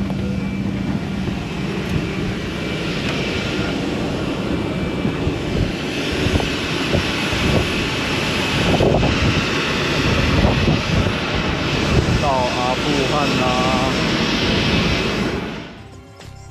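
Aircraft engines run steadily at an airport in Afghanistan, a loud continuous drone with broadband rumble persisting throughout before trailing off at the end, with no talk over it.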